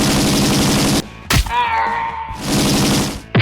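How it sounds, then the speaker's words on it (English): Rapid machine gun fire from a LEGO model warplane in a game-style battle against alien invaders, with loud continuous bursts near the start and end, a brief lull in between, and no talking. "it's time to activate our machine gun"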